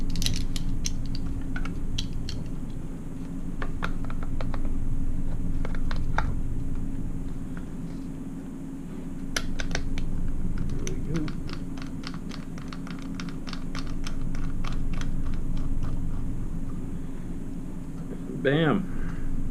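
Metal tongs of a bipod mount click and ratchet as it is fitted and tightened onto a budget rifle, a series of sharp close clicks, with someone talking over parts of it.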